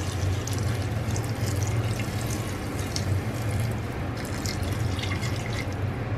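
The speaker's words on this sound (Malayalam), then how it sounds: "ഇനി നമുക്ക് ഇതൊന്ന് കുക്കാവാനുള്ള ആവശ്യത്തിനുള്ള വെള്ളം ഒഴിച്ചു കൊടുക്കാം" Water pours steadily into a pressure cooker of pumpkin soup, a continuous close splashing rush with no talking.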